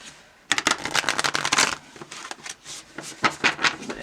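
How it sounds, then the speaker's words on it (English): Oracle cards from a Mystical Shaman deck being shuffled by hand, a run of quick crisp riffling flutters followed by a few separate softer shuffles, close and alone. "I already cleared and shuffled these, so I'm just going to give it a little bit"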